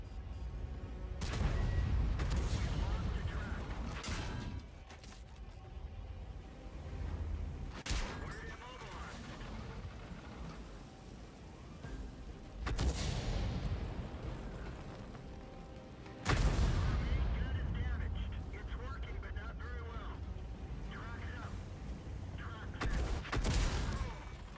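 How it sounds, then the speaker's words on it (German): A tank fires HE shells in a World of Tanks battle, giving several heavy booming shots spaced a few seconds apart over a constant rumbling game backdrop. Quiet talk runs underneath. "Und er schießt mit HE."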